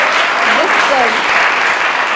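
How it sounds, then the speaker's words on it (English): An audience bursts into loud, dense applause at an event, the clapping sustained and close throughout, with faint voices rising briefly underneath. "I think this calls for a biggest round of applause."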